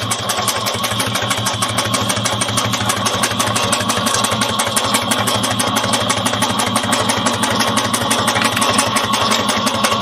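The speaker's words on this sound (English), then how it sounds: "So I'm gonna sew across this top." A sewing machine stitching across the top of a fabric bag runs with a loud, fast, evenly pulsing mechanical whir that holds steady and close throughout.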